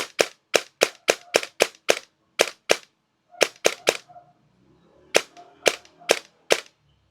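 Airsoft gun with a 3300KV brushless motor firing on semi-auto, sharp loud snapping shots in quick bursts with brief gaps between groups, close and clear, with no voices.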